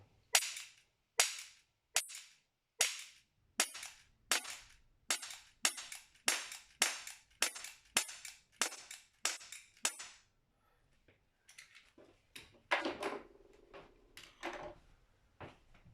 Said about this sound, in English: I'll just shoot in the middle of that top right quarter.